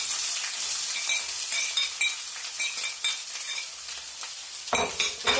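Vegetables fry in sunflower or olive oil in a pan for a Spanish pepper-and-egg toast, sizzling loudly and continuously while a utensil stirs and scrapes in rhythmic strokes, with a sharper burst near the end.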